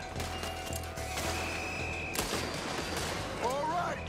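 Bursts of gunfire from a Red Dead Redemption 2 shootout in a city street, a few sharp reports scattered over a steady game soundscape with voices talking.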